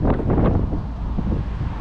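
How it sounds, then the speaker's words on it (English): Strong wind buffets the microphone on a saltwater shore during bass fishing, a loud rumbling gusty roar with uneven surges that persists throughout the short stretch, with no talk. "conditions are windy."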